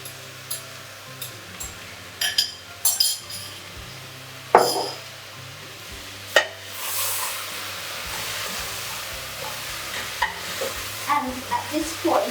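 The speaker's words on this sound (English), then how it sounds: "I take my okra, which I've got in a bowl here, and add it and stir it in" Okra tips into a pan of sizzling tomato sauce and is stirred in, a constant close hiss punctuated by repeated spoon clinks and scrapes against the pan, with no one speaking.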